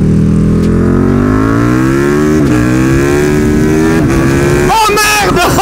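A KTM 1290 R Superduke motorcycle accelerates hard, its loud engine note climbing steadily through the gears with brief dips at each shift, then roaring up again near the end.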